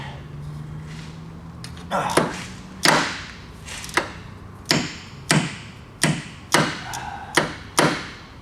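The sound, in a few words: ratcheting wrench during Nissan Maxima coil replacement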